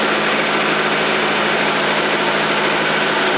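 Datsun engine idling with a blowing head gasket, a loud, steady, broadband running drone with no talking over it.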